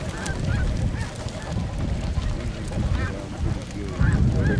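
A flock of snow geese calling as they fly in during a goose hunt in Pennsylvania, with repeated overlapping honks over steady wind noise and a voice speaking now and then.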